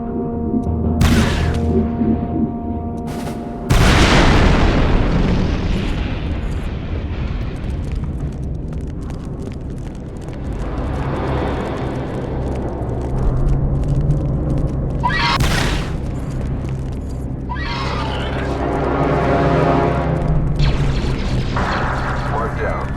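Deep booms and rumbling explosions roll through a Star Wars Republic Commando battle, several heavy blasts with long decays over a muffled mechanical drone, with voices talking at times.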